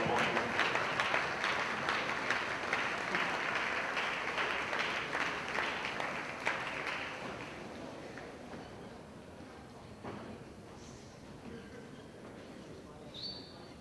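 Crowd in a high school gym at a boys basketball game gives a round of applause for senior cheerleaders, dense clapping at first that gradually thins and fades toward the end.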